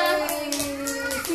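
Small children clap together in a classroom to cheer for a girl named Anjana, a handful of quick claps over a steady sustained tone and brief chatter.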